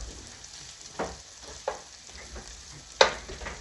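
Loaded Doritos nachos frying and crisping in a pan, a steady low sizzle with a few sharper pops and crackles, one louder burst near the end, no talk.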